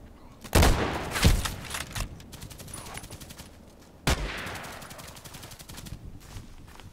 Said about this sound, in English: So he was shooting from here into the bushes